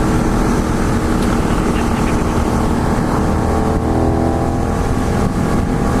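A Benelli 752S motorcycle, its parallel-twin engine derived from the old Tornado triple, runs steadily at a close, loud, even idle with a constant low mechanical drone throughout.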